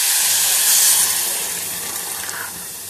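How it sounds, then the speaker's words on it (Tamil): Water poured into a saucepan of sugar for syrup, a steady close splashing hiss with a brief louder surge early on, then a softer continuous flow with no voices. "1/2 கப் தண்ணி சேர்த்துக்கிறேன்."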